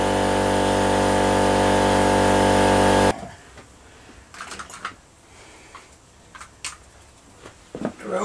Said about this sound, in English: I've got a drill for the compressor